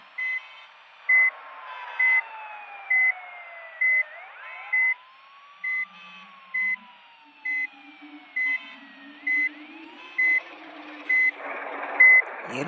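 A big bus reverses in Bus Simulator Indonesia, its reversing alarm beeping about once a second in a steady run of a dozen tones, with a faint engine drone and tyre-like sweeps beneath and a brief burst of noise at the end.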